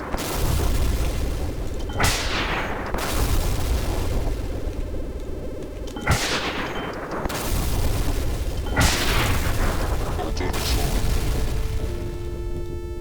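Procedurally generated gunfire booms from a video game, several loud blasts a few seconds apart, each trailing off in a long rumbling decay under a constant dense background.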